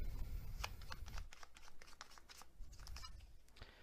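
A deck of tarot advice cards is shuffled up close, a quick run of crisp riffling and flicking card sounds continuing for several seconds with no talk.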